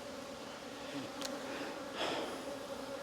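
Honeybees from an opened hive buzz in a steady, agitated drone with faint crackles and brief louder passes close by; no one speaks.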